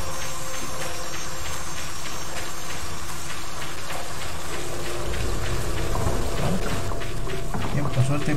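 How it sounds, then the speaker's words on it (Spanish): Steady rain fills a scene in the stealth video game Shinobido, a dense constant hiss running throughout with low rumbling swells toward the end. "Está lloviendo"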